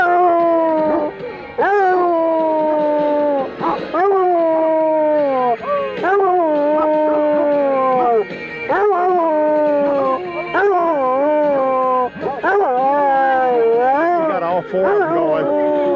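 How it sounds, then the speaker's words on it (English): Basset Hounds at an outdoor picnic break into a group howl, long wavering baying voices overlapping in a loud, continuous chorus with sliding pitches, rising and falling again and again for the whole stretch. "Let's go out with a howl."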